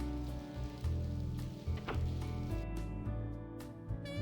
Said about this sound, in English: Oh, it is raining.